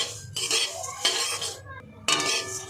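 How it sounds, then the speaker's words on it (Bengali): Dry oats scraped and tossed in a dry metal pan, with bursts of rattling and stirring clatter that pause and resume, close and fairly loud. "ওটস যদি এরকম শুকনো কড়াইতে ভেজে তারপরে রান্না করা হয়"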